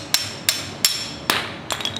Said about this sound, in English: you don't want to hit it too hard with the hammer